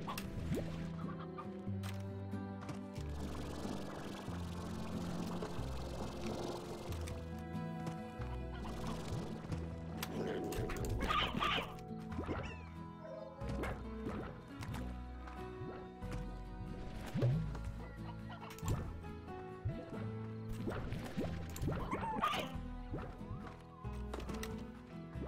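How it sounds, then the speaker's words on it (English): Chickens clucking in a pen in the Slime Rancher video game after a hen is tossed in, repeated close clucks and squawks over a steady background music bed. "I'm gonna throw a hen in there."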